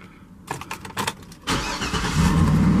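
A 2010 Cadillac Escalade ESV starts up close by: a few starter cranks, then the engine catches with a loud burst and settles into a steady idle.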